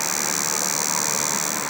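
A cicada's high-pitched summer whine holds as a steady, dense, hissing drone at constant loudness, with no other sounds present.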